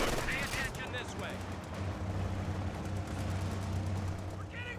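M1919 machine guns fire during a Company of Heroes 2 multiplayer match, bursts of gunfire and battle noise dense beneath a commentator's voice.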